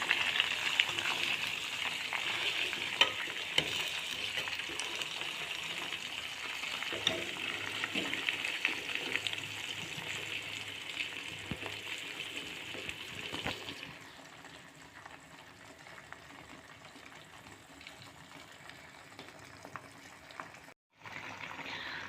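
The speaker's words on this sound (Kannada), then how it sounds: "ನಾನೀಗ ಎಣ್ಣೆ ಕಾಯೋದಕ್ಕೆ ಇಟ್ಟಿದ್ದೀನಿ." Cooking oil warming on a home stove for a natural homemade hair oil, giving a steady soft sizzle and faint bubbling close by, easing slightly quieter toward the end, with no talking.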